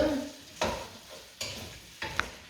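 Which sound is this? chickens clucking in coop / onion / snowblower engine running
onion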